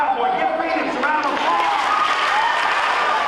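Students clap at a school assembly, a dense burst of applause with cheering voices mixed in, filling the room steadily at close range for a few seconds.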